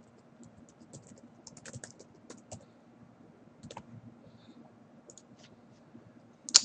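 Light computer mouse clicks and faint keyboard taps during work in Ansys Mechanical software, scattered and soft over a low steady hum, with one sharper click at the end.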